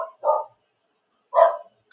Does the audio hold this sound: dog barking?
yes